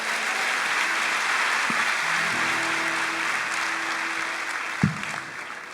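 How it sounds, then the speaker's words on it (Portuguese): A church congregation at a conference gives applause to the Lord, a broad wash of continuous clapping with a low hum underneath and a brief thump near the end. "E você pode dar mais um aplauso ao Senhor."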